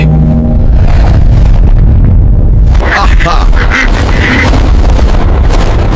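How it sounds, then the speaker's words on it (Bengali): A cartoon duck quacks loudly amid busy animated sound effects, with rumbling booms and a voice speaking, the quacks bursting out in the second half. "কি বড় হাঁস"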